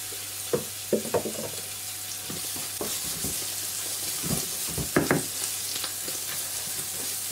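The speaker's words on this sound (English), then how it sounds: "I can smell the chorizo starting to cook now." Chorizo frying in oil in a pan for spaghetti bolognese, with a steady close sizzle under scattered clinks and scrapes of stirring.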